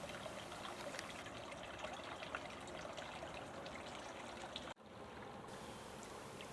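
Steady rushing and trickling of flowing water fills the whole clip, a continuous broadband wash with a brief dip near the end.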